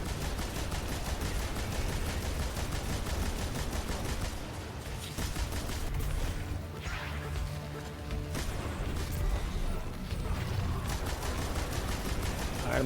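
Heavy weapon fire in Destiny 2 rattles continuously amid dense game combat effects, loud and busy throughout with sharp blasts and mechanical clatter.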